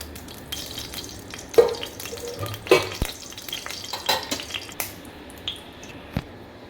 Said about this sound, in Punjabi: ਫਰਾਈ ਪੈਨ ਨੂੰ ਆਪਾਂ ਗੈਸ ਤੇ ਰੱਖਿਆ ਹੈ ਇੱਕ ਵੱਡਾ ਚਮਚ ਆਪਾਂ ਦੇਸੀ ਘਿਓ ਦਾ ਪਾਵਾਂਗੇ